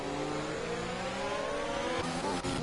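Formula 1 race cars in the F1 2021 video game at Belgium's start-finish line, engines screaming at high revs with pitch gliding upward as they accelerate close together, a constant loud whine with no talk.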